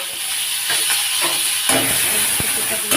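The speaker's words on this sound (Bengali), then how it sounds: "তেলটা প্রচণ্ডভাবে গরম হয়ে গেছে আমি আগে যেটা করব পেঁয়াজ কুচি রসুন বাটা আর আদা দিয়ে" Chopped onion, garlic paste and ginger hitting very hot mustard oil, a steady close sizzle and hiss with a few stirring scrapes and clicks throughout.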